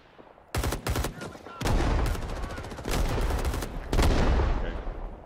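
Machine gun fire in the Vietnam War shooter Rising Storm: Vietnam, loud rapid bursts of automatic shots with sharp repeated cracks, broken by short pauses, amid a busy battlefield din.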